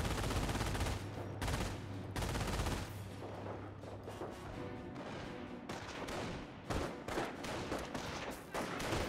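Machine gun fire from an MG42 in a bunker during a Company of Heroes battle, dense overlapping gunfire and explosions running continuously at close range with heavy low rumble throughout.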